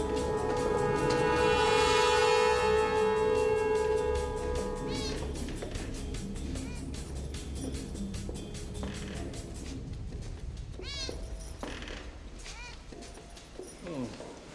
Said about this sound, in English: A black cat went past us